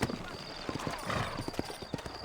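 Horse hooves clip-clop in a steady rhythm close by in the video game Red Dead Redemption, leaving town in New Austin, with a brief whinny and a faint voice mixed in.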